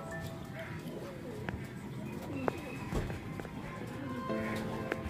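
Pigeons cooing in a loft, soft repeated coos under light background chatter with a few scattered clicks and wing flutters.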